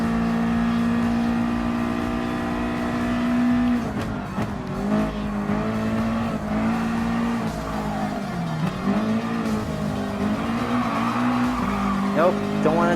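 A Super GT race car in Gran Turismo Sport roars steadily at high revs, with dips and shifts in pitch through turns, some tire squeal and a rising rev near the end. A voice talks intermittently over the engine.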